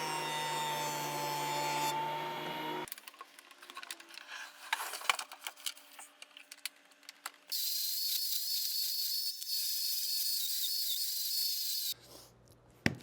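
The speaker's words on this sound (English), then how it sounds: "we're just going to do a quick joint" A jointer machines wood, heard as loud, harsh mechanical whirring and grinding in distinct bursts, with quieter clattering gaps between the passes.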